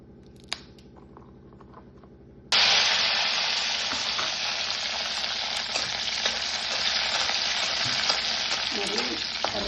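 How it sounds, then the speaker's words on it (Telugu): Green chillies torn and dropped into hot oil set off a sudden loud sizzle that keeps spluttering and crackling steadily at close range after a quiet start. "పచ్చిమిరపకాయలు ఇలా తుంచుకుని వేసుకుంటే మొహం మీదకి పేలకుండా ఉంటాయండి"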